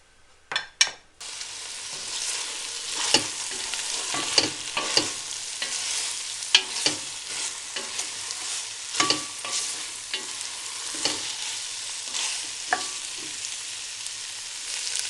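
Food fries and is stirred in a pan for a Eid bakbouka (stuffed tripe) dish with tomatoes and chickpeas, a steady sizzle broken by repeated scraping strokes of the utensil, close and fairly loud with no talking.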